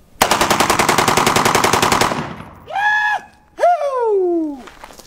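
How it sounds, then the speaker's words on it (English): A short-barrel SCAR 16 rifle fires full auto at bowling pins in one loud, close, rapid burst lasting about two seconds. Two long excited vocal whoops follow right after. "Put it on full auto, cock it, and it's ready to go."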